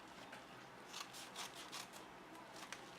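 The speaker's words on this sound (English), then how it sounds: "So I'm gonna cut this open right now" Scissors snipping open a package holding air hose adapters for an airbrush, a few quick faint cuts with rustling, close and quiet with no talking.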